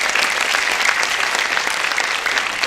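Dense, sustained applause from an awards-ceremony audience, steady and fairly loud throughout with no break.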